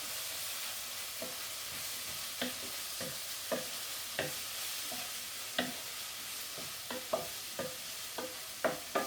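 Ginger sizzles steadily in a hot pan for lamb kofta curry, with a broad frying hiss broken by scattered clicks and scrapes of a spoon stirring, close and moderately loud with no talking.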